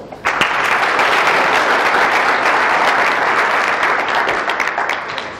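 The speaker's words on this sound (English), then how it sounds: "Clap for the person next to you." Dense, continuous clapping from a seminar crowd at a forex trading talk, beginning suddenly and easing slightly toward the end.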